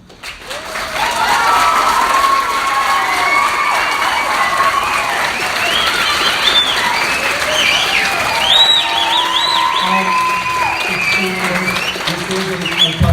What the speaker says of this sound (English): I would ask that you hold your applause until the end